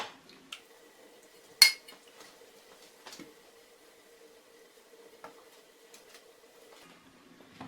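Cooked vegetables are lifted out of potato soup broth in a pot, bringing a few faint, scattered clinks of a utensil against the pot over a quiet kitchen background.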